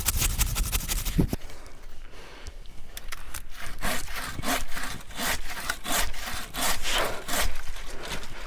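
Hand saw cutting through wood in steady back-and-forth strokes, loud and close, running continuously with a brief pause near the start.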